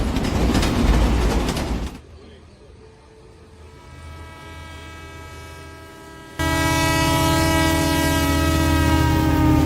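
A train horn blares in loud sustained tones, breaking off into a quieter stretch and then returning steady and strong, with rumbling rail noise underneath.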